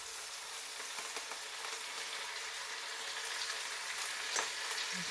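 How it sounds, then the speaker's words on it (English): Foraged leaves fry in a pan with a steady, even sizzle and faint crackle, a few soft stirring clicks over the continuous hiss, no voices. "Okay, so I'm going to add my leaves in now."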